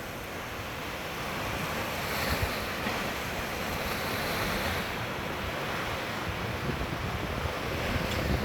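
Sea waves at Ghazala beach in the Abyad area of Marsa Matruh on a calm day, a steady soft wash of surf with wind noise across the microphone throughout, no voices.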